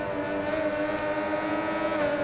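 A motorcycle engine in the racing game RIDE 4, on a French course, holds a steady, high-revving drone with a constant pitch and no speech over it.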